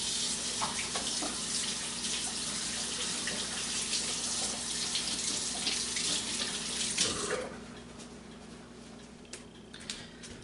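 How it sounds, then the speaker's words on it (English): Hands being washed under a running kitchen tap, a close, steady hiss of water splashing into a sink that drops off sharply after about seven seconds, leaving faint drips and small clinks. "let me wash my hands quick"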